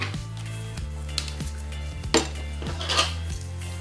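Vanilla extract is stirred into a corn panna cotta mixture, giving repeated clinking and scraping of a utensil against a bowl over a steady low mechanical hum.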